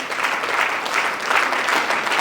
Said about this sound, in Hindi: एक जोरदार तालियां उस प्रत्येक एप्लॉम्बियन के लिए बजाइए